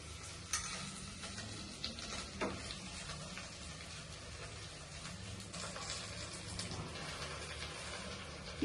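Chopped green chilies and gongura (sorrel) leaves sizzle in hot oil in a pot with a steady crackling hiss, and a utensil scrapes and clinks now and then.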